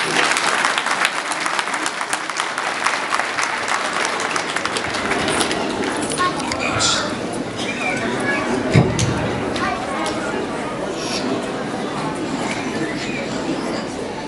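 Audience applause for a speaker being introduced at a peace foundation event, a loud sustained burst of clapping across the whole stretch, with crowd noise and some voices mixed in.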